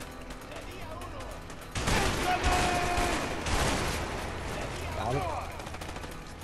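Rapid gunfire bursts in the video game A Way Out crackle over a steady backdrop, with voices talking throughout.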